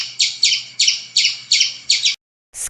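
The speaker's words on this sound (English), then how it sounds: "Squirrel." A squirrel's call comes as a rapid series of sharp, high chirps repeated about seven times at an even rhythm, loud and close, then a brief silence before another chirp begins.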